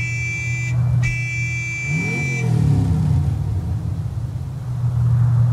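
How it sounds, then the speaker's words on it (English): A vehicle horn in Borderlands 3 blares twice, a short tone and then a longer one, loud over a low engine rumble that swells as the vehicle revs. "There's a horn."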